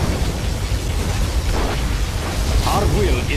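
Heavy, continuous low rumble of a tactical cannon strike in Command and Conquer Generals Zero Hour, sustained blasts with a few brief mechanical chirps, with a voice speaking over the barrage.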